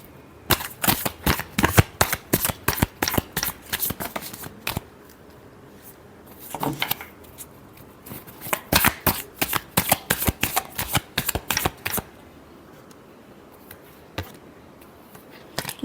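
Tarot cards being shuffled in quick bursts of crisp, close riffling clicks, several runs of rapid card snaps separated by short pauses, with no talk.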